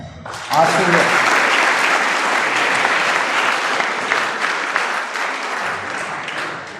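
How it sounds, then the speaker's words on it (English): Loud, sustained applause from a large audience for a guest speaker starts abruptly and holds steady for several seconds before tapering slightly. "Clapping for him."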